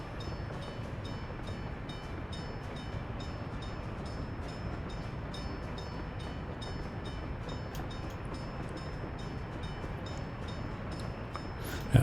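Trains roll along rails in the Workers & Resources: Soviet Republic game, a faint continuous rumble of rail cars with soft rhythmic clatter, steady and distant with no talk.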